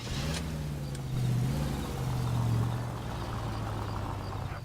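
A car engine hums steadily in the L.A. Noire video game, a low continuous drone with a slight swell in the middle, heard alone without talk.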